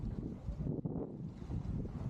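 Wind of about 20 knots buffets a sailing boat off the coast, a steady close roar with gusty rumble against the microphone and faint water wash beneath.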